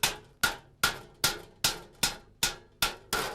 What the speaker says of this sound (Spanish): poco a poco con el martillo, aquí arriba del ayunque, hasta que estén todos curvados.